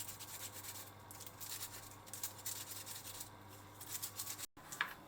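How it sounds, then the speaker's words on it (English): Burdock roots scrubbed with a balled-up piece of aluminum foil give a quiet, steady rasping rub in repeated strokes, close up and faint, with a brief dropout near the end. "you can scrub it off as shown in video using a balled up piece of aluminum foil"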